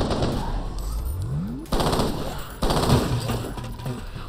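Rapid gunfire aimed at ghosts in the shooter game F.E.A.R. Files, loud, sustained automatic bursts, cut into three sections by abrupt pauses, with a dense, crackling texture throughout.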